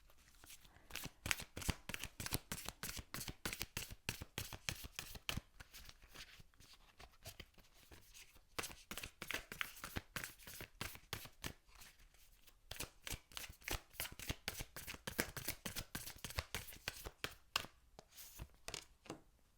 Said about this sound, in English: So I'm just going to shuffle these cards and see what comes up.